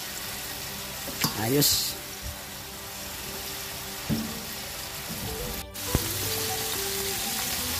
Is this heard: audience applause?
no